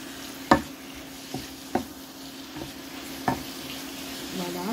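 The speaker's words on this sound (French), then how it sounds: "Pour l'instant, on fait dorer." Veal browning in a pan sizzles with a steady hiss, punctuated by several sharp knocks of a utensil stirring against the pan, close and without talk.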